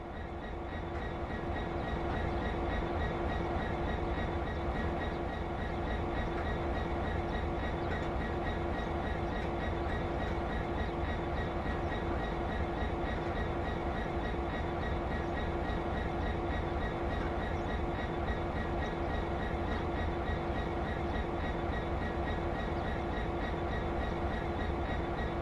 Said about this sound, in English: Put the train in forwards so we're ready to get moving.